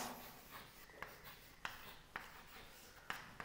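Pen strokes scratch across paper in short, regular scrapes with small taps between them, close and faint over a quiet background hiss while math is worked out by hand.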